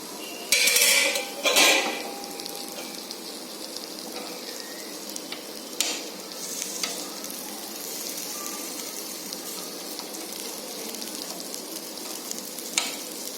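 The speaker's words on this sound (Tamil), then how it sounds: "இப்போ சிக்கனை திருப்பி போடுங்க." Chicken 65 pieces being flipped in a pan with no oil: two sharp clatters of utensil on metal at the start, then a soft continuous sizzle with occasional light scrapes and taps, no voices.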